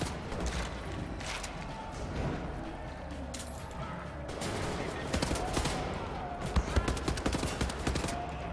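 Automatic gunfire from hip firing in Wolfenstein: The New Order bursts loud and rapid throughout, with dense repeated shots and crashing impacts layered over game ambience.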